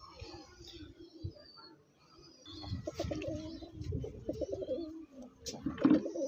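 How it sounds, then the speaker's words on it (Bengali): Domestic pigeons, a pair of male and female birds offered for sale, cooing softly in low repeated throaty bursts, with someone talking over them and faint chirps around. "এই যে পায়রার সেটটা দেখুন, নর মাদা দুজনই দেখুন"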